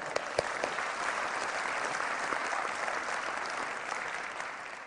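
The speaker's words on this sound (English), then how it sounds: "Give them a round of applause." Audience applause at a talk on nonverbal and verbal communication, a steady dense wash of clapping from many hands that holds at an even level throughout, with a few sharper individual claps near the start.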